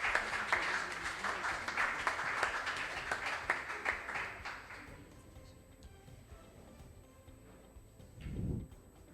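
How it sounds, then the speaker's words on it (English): Audience applause for school quiz competition contestants: lively, fairly close clapping for about five seconds that fades out into room quiet, followed by a brief low thump. "Let's give the contestants a round of applause before we begin."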